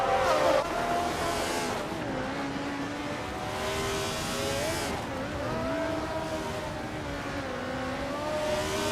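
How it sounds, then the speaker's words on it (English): A 1971 McLaren M19A race car launching off the start line in a racing video game, engine revving hard with rising and shifting pitch, other cars snarling close around it in a continuous loud pack. "Anar Kysix has shot off the line to take the lead."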